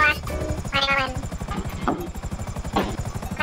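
Helicopter in GTA Online, a steady rhythmic rotor chop running through the whole stretch while players talk over it.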